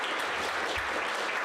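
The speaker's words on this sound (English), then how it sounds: "Big round of applause for Linda Phippen" Dense, steady applause from a church or community gathering honours Linda Phippen, a brief continuous wash of many hands clapping at once.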